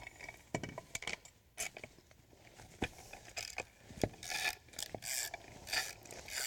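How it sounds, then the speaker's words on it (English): A Spellbinders Wizard die-cutting machine cranks paper through to emboss it, producing a close, steady run of ratcheting clicks and rubbing mechanical grinding with irregular louder clacks, fairly faint overall and with no talking. "run this through the wizard to emboss"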